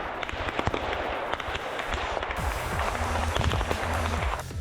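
Sharp explosive bangs of artillery fire go off repeatedly at uneven intervals, some close and loud, others more distant, with no talk.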